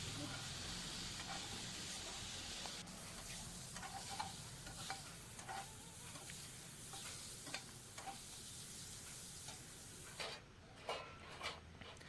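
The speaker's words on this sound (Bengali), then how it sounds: "এবার আস্তে আস্তে আমি শ্যালো ফ্রাই করে নিচ্ছি।" Jackfruit pieces seasoned with salt, chilli powder and turmeric shallow frying in a pan, a continuous quiet sizzle and hiss with occasional scraping stirs of a spatula, the last strokes sharper and more distinct.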